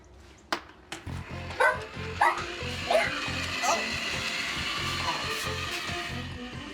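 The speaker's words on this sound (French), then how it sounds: "C'est un robot jouet, Pixel." A toy robot dog gives a few short electronic yips and barks over a steady mechanical whir, with voices talking in the background.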